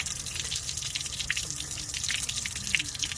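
Water draining from a camper's hot water heater, a steady close trickle and splatter of running water with small drips, continuous and fairly loud, with no talking.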